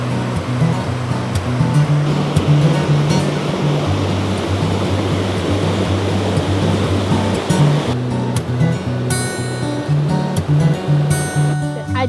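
Broad, steady rush of a larger waterfall on an island in Michigan's Upper Peninsula, loud and continuous throughout with close roaring water noise and some scattered background sounds near the end.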